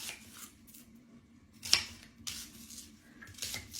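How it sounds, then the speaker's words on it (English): A knife cutting up an onion in a home kitchen, a few soft, irregular slicing and tapping sounds on a board, faint and close, with one sharper click, against a quiet low hum. "let me get this onion cut up"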